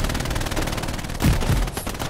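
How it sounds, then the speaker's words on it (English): Machine gun bursts in the World War II shooter Hell Let Loose, a dense steady stream of gunfire filling the whole stretch, with a louder burst near the middle amid constant battlefield noise. "The MG guys shoot through smoke."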